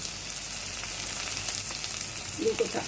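Green chillies fry in a hot pan with a steady, close sizzle and spitting oil, continuous and even throughout, with a soft stir near the end.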